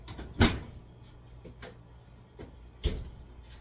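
An oven door thuds open and shut with clunky knocks as a tray of Biscoff biscotti is slid in, a few separate bumps close by in a quiet kitchen.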